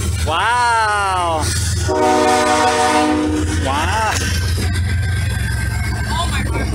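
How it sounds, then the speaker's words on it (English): A long freight train passes near Glenns Ferry, its horn blaring in several loud sustained blasts over a constant heavy rumble of rolling cars, with excited voices breaking in now and then. "Long train."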